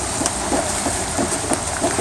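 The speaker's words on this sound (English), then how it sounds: "You notice it's raining out pretty hard" Heavy rain falls outdoors in a steady, dense hiss with faint spattering, continuous and moderately loud, with no voices.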